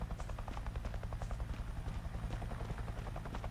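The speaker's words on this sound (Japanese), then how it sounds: "さあ、ヘリ来てるよ、ヘリ来てるよ。" Helicopter in the battle-royale video game Knives Out, a steady loud rotor thump with a continuous low drone, approaching and filling the scene without pause.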